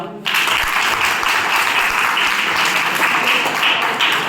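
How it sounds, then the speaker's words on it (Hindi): Students at a government school career counselling program burst into loud applause for a visiting doctor, the close, crackling clapping starting abruptly and continuing steadily. "उनके लिए तालियां"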